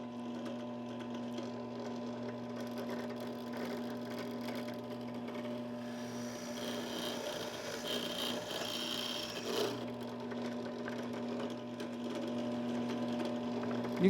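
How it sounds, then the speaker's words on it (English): A drill press bores into a guitar headstock resting on a backup board, a steady mechanical hum and whir with grinding, rasping bursts as the bit bites into the wood, continuous and close. "Last thing you want is to drill into the bed of your drill press."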